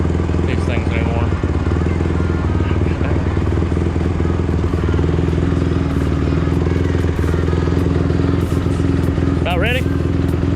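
A motorcycle with a broken clutch cable runs close by, its engine rumbling loud and unbroken from start to end, while voices talk over it.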